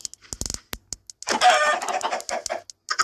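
Video game chickens cluck and squawk in quick bursts, with a longer rooster-like call in the middle, close and fairly loud over near silence.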